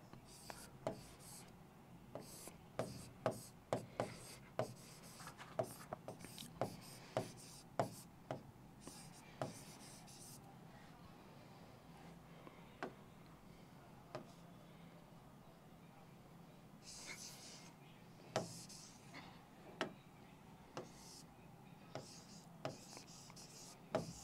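Pen scratching across paper in a quiet room as someone writes out exam-prep notes, sharp irregular strokes in bursts, louder and busier early on, then sparser with pauses, heard alone without talk.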